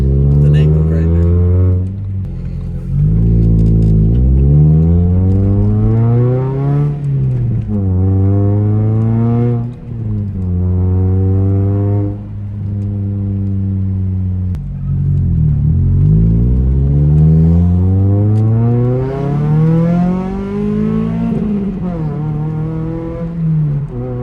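Car fitted with a high-flow catalytic converter and foot-long cherry bomb mufflers, revved repeatedly up and down at close range, with a loud, deep droning exhaust note that rises and falls.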